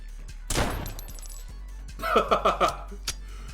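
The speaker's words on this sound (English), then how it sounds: "Continuous gunfire." Gunfire in a zombie video game, with a loud burst near the start and then a quick run of several sharp shots before it trails off.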